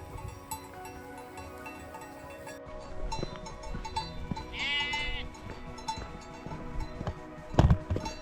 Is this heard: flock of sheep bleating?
yes